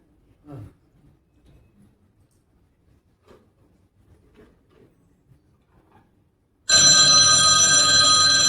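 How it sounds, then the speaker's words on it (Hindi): An old-style telephone bell rings loudly on a theatre stage during a Hindi play, bursting in after several seconds of near silence with faint stage shuffles and footsteps. "लो लो आ गया प्रीति का फोन"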